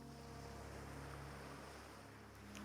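Ocean waves wash on a shore as a soft, steady, distant roar, faint and unbroken, with low sustained tones beneath.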